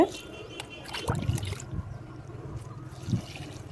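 Water pours from a can and trickles onto potted rose plants in a terrace garden in short splashing bursts, close by, with a few soft drips between pours.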